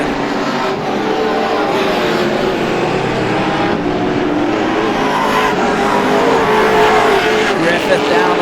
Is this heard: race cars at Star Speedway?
yes